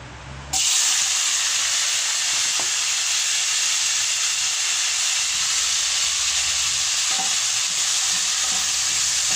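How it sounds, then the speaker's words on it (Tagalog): Onion and tomato drop into hot oil for milkfish sinigang sa miso, bursting into a loud, steady sizzle after a brief quiet start and hissing continuously, with a few faint clinks and no voices. "lagay ko na ang sibuyas at kamatis guys sa mantika"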